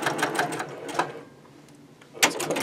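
A sewing machine stitches quilt block fabric in short bursts of rapid mechanical whirring, pausing in near silence in the middle before starting up again at close range, with no talk.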